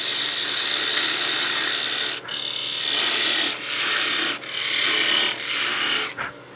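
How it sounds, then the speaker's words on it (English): Parting tool cutting into a wooden workpiece on a lathe spinning at 2,700 RPM for a Christmas gnome, a loud continuous scraping hiss broken by short pauses as the tool is eased off, heard close up. "I'm going to use my parting tool."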